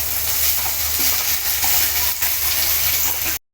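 Onion frying in a pan for sambar gives a steady, dense sizzle and hiss, close and loud, running throughout and cutting off briefly at the end.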